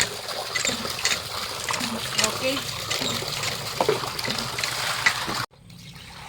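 Tap water runs steadily while snails are washed by hand, a continuous trickle with clattering shells, under talk, stopping abruptly near the end.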